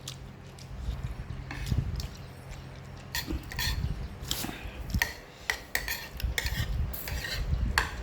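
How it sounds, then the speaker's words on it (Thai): Curry paste is stir-fried in a pan with soft, irregular scraping and clinking of a utensil against metal over a faint sizzle, fairly quiet and close. "ผัดพริกแกงค่ะ"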